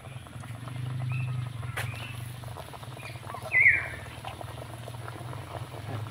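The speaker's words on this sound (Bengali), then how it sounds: "তো একইভাবে করে পকোড়াগুলো ভেজে নেব।" Jackfruit pakoras fry in hot oil with a soft, steady bubbling sizzle that stays low and even throughout, plus a brief faint squeak partway through.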